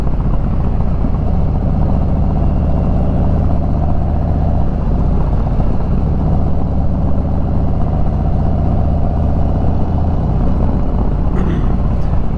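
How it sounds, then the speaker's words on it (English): A touring motorcycle riding a winding road, its engine droning steadily and loud with rushing wind, holding an even tone the whole time. "Yeah, this is a touring bike, but"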